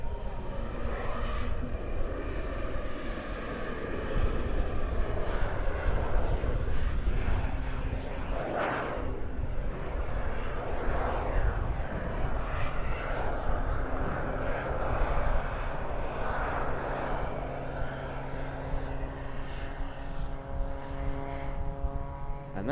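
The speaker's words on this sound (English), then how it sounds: "power being applied by the two jets, and we'll let you enjoy the noise thereof" A jet-powered Pitts aerobatic biplane fitted with two jets roars loudly and continuously at an airshow as it climbs away, a sustained rushing drone with a tone that shifts as the plane passes.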